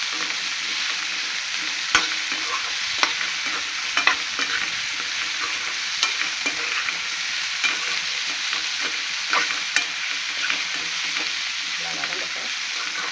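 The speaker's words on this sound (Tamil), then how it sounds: "இந்த மாதிரி முருங்கைக்காய் வதக்கிக்கலாம்." Moringa drumsticks sauté in a hot pan for sambar, with a steady dense sizzle running throughout and occasional soft scrapes and clicks of a spoon turning them.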